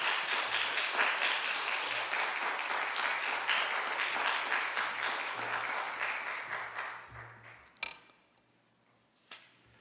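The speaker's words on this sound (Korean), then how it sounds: "우리 박수로 맞이해 주시면 감사하겠습니다" A church congregation applauds to welcome a missionary at a worship service. Dense, lively clapping fills the room for about seven seconds, then tapers off, leaving a few scattered thumps in near quiet.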